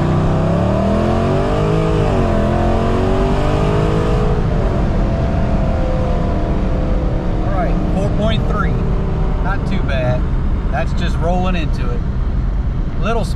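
A modified, cammed 5.7-liter Hemi R/T revs hard and accelerates through a 0-to-60 run, its loud engine note rising and dropping across gear changes, with higher tire or drivetrain whine joining late in the pull.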